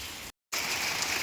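Monsoon rain falls in a steady soft hiss, fairly quiet, cut by a brief moment of silence before resuming.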